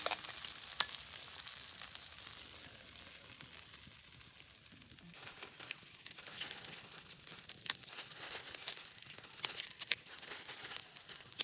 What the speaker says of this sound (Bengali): এখন আমাদের মাছের মাথাগুলো সব ভাজা হচ্ছে ভালো করে